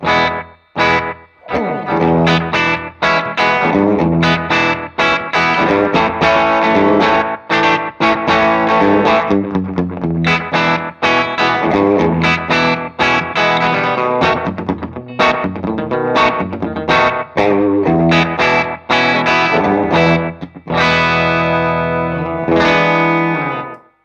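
Distorted electric guitar played through a slapback delay pedal, chords and notes followed by quick short repeats, continuous and loud with a wet, echoing edge.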